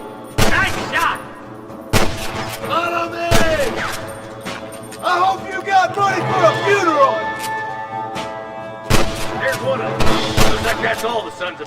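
Loud, sharp gunshots crack out in uneven bursts during a frontier firefight in Red Dead Redemption, with shouting voices and other game sounds between the shots.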